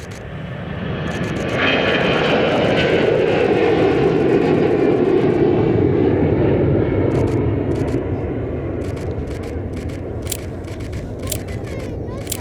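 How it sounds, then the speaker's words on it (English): An Air Transat passenger jet flies past, its engine roar building quickly and holding loud and close for several seconds before slowly easing, with faint clicks toward the end. "here comes the Air Transat to Tulum"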